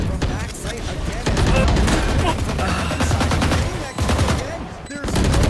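Gunfire in Valorant: sustained automatic bursts and rapid single shots crackle loudly and densely, overlapping one another nearly nonstop under an excited caster's voice.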